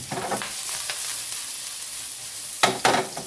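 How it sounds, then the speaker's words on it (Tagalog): Minced garlic hits hot oil in a kawali, a soft sizzle that flares into two louder, crackling bursts near the end. "mainit na yung ating kawali. Ilalagay na natin yung ating bawang."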